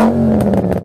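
Seat Toledo with a 2.3 litre engine and sports exhaust, heard as a loud, steady, close engine drone that holds for under a second and then cuts off abruptly.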